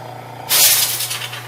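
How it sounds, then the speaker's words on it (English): A small airbrush compressor blowing dust out of a power amplifier's parts and heat sinks lets out a sudden loud hiss of air partway in, following a faint background hum. "This is a little tiny compressor."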